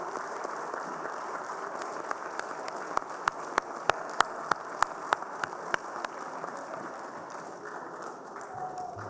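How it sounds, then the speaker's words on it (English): Conference audience at GIMACON 2022 breaking into applause, a dense wash of clapping with a run of sharp, evenly spaced louder claps near the middle, fairly distant in a large hall. "Please stand up and clap loudly."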